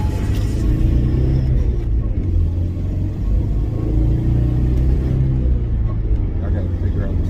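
Inside a Nissan 200SX S12 on the move, the engine gives a loud, continuous low rumble that swells and sags unevenly as it hesitates, with a voice speaking over it.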